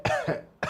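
A single person's cough, with a short sharp first burst, a second softer one, then a brief pause and a third burst, close and clear indoors.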